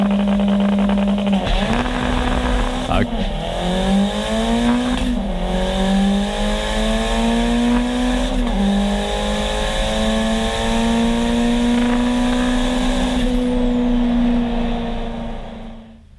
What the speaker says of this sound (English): So Luke takes his victory lap.